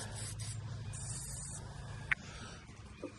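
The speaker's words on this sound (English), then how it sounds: "grab your battery terminal protector and go ahead and give it a good spray." Short hissing bursts of an aerosol battery terminal protector spray on a third-generation Toyota RAV4 battery, quiet and close, with faint handling sounds in between.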